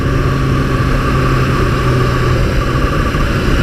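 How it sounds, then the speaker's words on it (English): A 2018 Suzuki GSXR1000R four-cylinder motorcycle engine runs with a loud, steady, smooth drone, held at an even note throughout with a continuous roar and no shifts or pauses. "the absolutely beautiful buttery smooth 4-cylinder engine."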